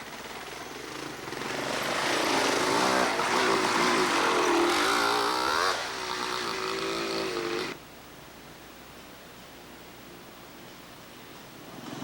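Dual sport motorcycles ride a trail at a 1992 dual sport event, producing a broad, steady engine roar that builds, holds for several seconds, then suddenly drops to a quieter background rumble. No voices are heard.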